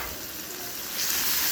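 Onion and tomato sauté in a pan with asafoetida, making a constant, even sizzle that swells slightly toward the end, close and steady with no talk.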